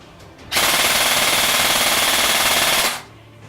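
A continuous burst of rapid full-auto fire from a Krytac Trident LMG airsoft gun with an 11.1V LiPo battery and 30K motor, loud and close, lasting about two and a half seconds before stopping abruptly.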